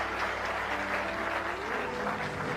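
A large audience bursts into sustained applause with scattered cheers, a thick, even wash of clapping that holds steady from start to finish at moderate distance.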